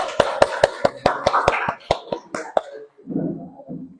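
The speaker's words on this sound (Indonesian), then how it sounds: "Tepuk tangan untuk kelompok Abu Bakar" A classroom group claps for a student team in a rhythmic burst of about a dozen sharp, evenly spaced hand claps that quicken and fade, followed by a brief murmur of voices.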